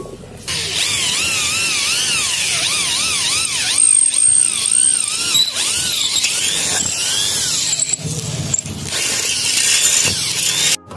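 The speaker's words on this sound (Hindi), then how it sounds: "हमने होल इधर कर लिया है जो कि हमने 2 सूत के बिट से किया है" A power drill fitted with a 2 soot JK bit bores a hole through an aluminium door frame, whining loudly and steadily up close, its pitch wavering up and down as the bit bites and eases.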